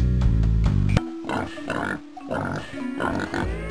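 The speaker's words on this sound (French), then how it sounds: "Écoutez-moi, les cochons." Cartoon pigs oink and grunt in the Freddi Fish 4 game on the Hog Wash ranch, several short snorts in quick uneven bursts, close and clear, mixed with brief game music and sound effects.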